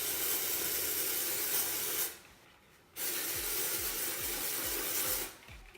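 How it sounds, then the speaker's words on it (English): Not Your Mother's Clean Freak aerosol dry shampoo sprayed in loud, steady hissing bursts: one long spray, a brief pause, then a second long spray that stops near the end. "And I'm shaking it so that the product goes in with the aerosol."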